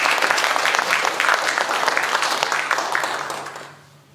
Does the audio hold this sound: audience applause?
yes